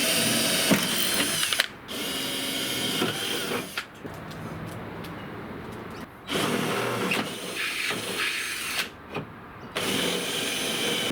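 A power tool whirs in several bursts, each a few seconds long with short pauses between, close and loud with a mechanical grinding whine, while a rivnut is set for a Pajero build.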